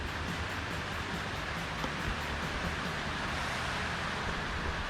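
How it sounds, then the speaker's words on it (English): Heavy rain pours down steadily in the woods, a dense, even roar with no breaks that fills the whole stretch and carries no voices. "it just started pouring rain."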